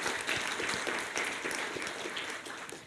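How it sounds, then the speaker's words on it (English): Steady audience applause at a public policy forum in Indonesia, a dense wash of clapping from a room full of people that holds at an even level throughout, with no talk over it. "Please give applause to Pak Rian."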